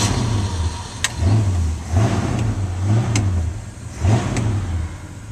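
A 1965 Ford Galaxie's engine runs close by with a rough, throaty idle, rising in several short revs that swell and fall roughly once a second.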